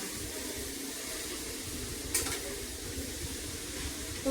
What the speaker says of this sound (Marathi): त्यानंतर हे सगळं तुपात फ्राय करून घ्यायचं